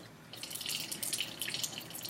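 Tap water runs steadily into a sink while hands are rinsed beneath it, a soft continuous splashing with light dripping that stays close and alone, no voices over it.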